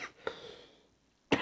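A few short coughs from a podcast guest or host break a quiet room: a soft one at the start, another a moment later, then a sharper, louder cough near the end.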